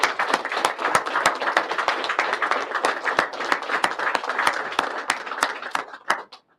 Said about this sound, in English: I'd like to have a quick round of applause for Kathy Curtis